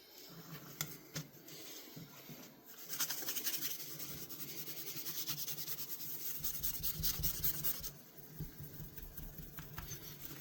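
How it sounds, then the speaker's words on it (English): A knife blade is hand-polished with Mothers mag and aluminum polish, giving a steady soft rubbing hiss that starts after a few faint scrapes, swells for several seconds, then eases into lighter strokes, close and quiet. "Let's put some mothers on and see how it smooths it off."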